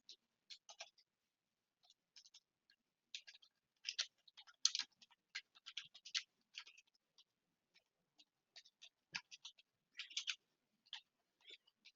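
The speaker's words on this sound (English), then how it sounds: "I'm just going to go ahead and type it." Typing on a computer keyboard: faint, quick clusters of light clicks in uneven bursts with short pauses, alone in an otherwise quiet room.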